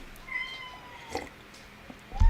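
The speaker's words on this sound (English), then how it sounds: "my cat requires my attention" A pet cat meows for attention indoors with a few drawn-out, close cries, then a brief thump at the end, with no talking.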